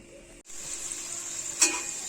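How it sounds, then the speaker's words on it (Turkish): Green peppers sizzle steadily in a hot pan, a close, even frying hiss with a brief dip and a short sharper crackle. "Yeşil biberimiz çok güzel kavruldu görüyorsunuz."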